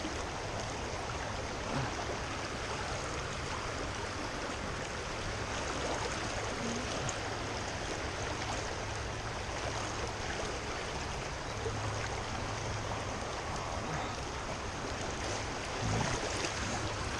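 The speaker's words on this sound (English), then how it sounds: "this water's moving pretty fast, as you can see in the video here" Fast-moving water of Tulpehocken Creek rushes steadily around a wading angler, a constant broadband wash with no pauses and no voices.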